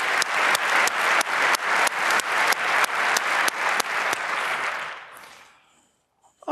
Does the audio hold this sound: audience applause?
yes